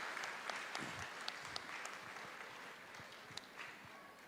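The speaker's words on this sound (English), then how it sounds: "a big applause for Akbar Nizamuddin Sahib." Applause from an audience at a conversation event, a steady wash of many hands clapping at moderate distance, fairly quiet with a few sharper claps standing out.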